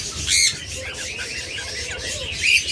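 Pet lovebirds, cockatiels and budgerigars in a breeding setup give sharp, close squawks and chirps, with two louder calls near the start and end over a constant background of twittering.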